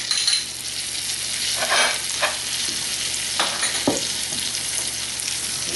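Butter sizzles steadily in a pan while caramel for a tarte Tatin is made, a close, continuous frying hiss broken by a few brief clinks and stirring scrapes, with no talking.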